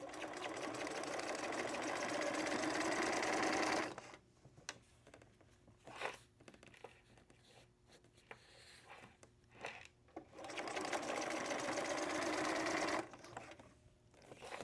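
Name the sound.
sewing machine stitching fabric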